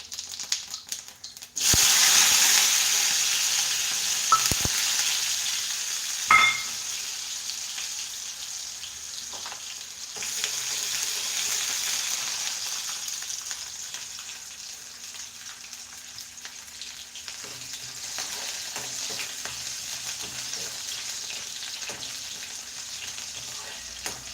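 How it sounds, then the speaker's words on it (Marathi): Cumin seeds and then onion drop into hot oil, bursting into a loud hiss that settles into a steady sizzle, with occasional clinks and scrapes of a spoon against the pan over a long stretch and no talking. "तेल पण चांगलं तापलंय आता मस्तपैकी येत जिरं टाकून घेते आता जिरं टाकलं की कांदा टाकते"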